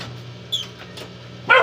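A pet dog gives two short, sharp yips, one midway and a louder one at the end, over a quiet room hum.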